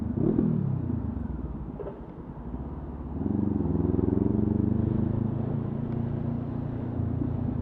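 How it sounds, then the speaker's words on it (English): A Honda motorcycle engine rumbles low and close, dipping briefly before the throttle is opened and the revs rise into a sustained, steady drone while riding through London. "You can just tap the throttle in third gear"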